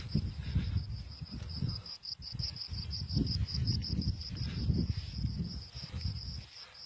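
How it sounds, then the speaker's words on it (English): Crickets chirp in a steady, high, rapidly pulsing trill on an outdoor nature walk, with soft low rumbling and rustling underneath. "You hear the crickets."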